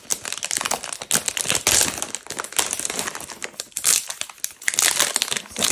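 A plastic bag holding a diamond painting crinkles loudly and continuously up close, with irregular rustling bursts as it is handled.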